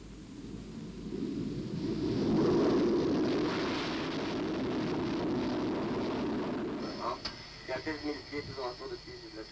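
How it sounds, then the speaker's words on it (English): SEPECAT Jaguar jet taking off on its first flight: a loud, broad jet roar that swells to a peak and holds steady, then eases as radio chatter cuts in near the end. "The Jaguar was cleared for its first takeoff."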